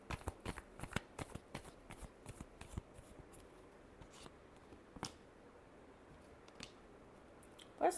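Tarot cards are shuffled in a run of crisp, quick riffling flicks and soft slaps, close and fairly quiet, thinning out into a few scattered snaps toward the end.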